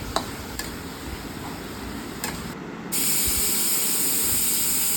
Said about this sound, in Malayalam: ഇതിലേക്ക് സവാള വഴലാൻ വേണ്ടി മാത്രമുള്ള കുറച്ച് ഉപ്പും ഒരു തണ്ട് കറിവേപ്പില ഇട്ട് നന്നായി ഇളക്കി നല്ല പോലെ ഇതൊന്ന് വഴറ്റിയെടുക്കാം.